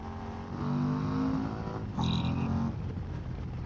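A Harley-Davidson CVO Road Glide RR motorcycle engine revs hard against its rev limiter, a loud, close, sustained drone with a brief stuttering cut and second burst near the end.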